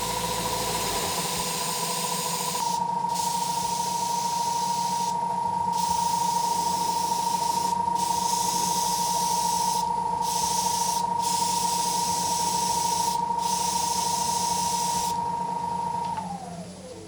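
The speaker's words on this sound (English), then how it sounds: "I'm just going to start to carefully feather this in, starting the colour spraying off the piece." Continuous hiss of a spray gun applying colour to a spinning knotty cedar of Lebanon platter on a wood lathe, with a steady whine underneath, the spray cutting in and out in short bursts before the motor winds down.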